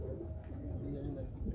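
Antique-colour breed pigeon cooing, low soft murmurs close by, mixed with a voice talking throughout.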